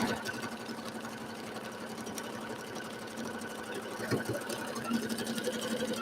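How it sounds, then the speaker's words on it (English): A sewing machine stitches a border onto a quilt, a steady, fast mechanical whir held at an even level throughout with a slight swell near the end. "Then I'm just going to sew this border on all the way down to the end."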